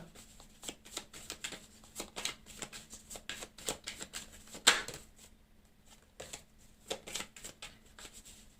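A deck of cards is cut and handled quietly, giving a string of soft, irregular clicks and riffles with one sharper snap midway and no voices.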